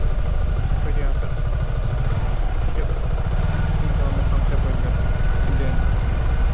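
A motorcycle on a road trip to a Malaysian waterfall idles up close, a steady loud low-pitched chugging rumble that continues throughout, while a person talks over it.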